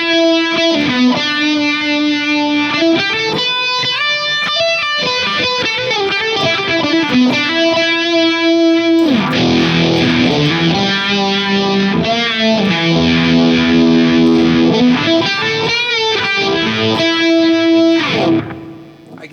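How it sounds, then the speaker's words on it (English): An electric guitar plays sustained riffs through a DOD Phasor into a DOD Gunslinger distortion pedal, loud and continuous with a sweeping phased tone, alone without talk for nearly twenty seconds. "I think it sounds great with that Gunslinger into it"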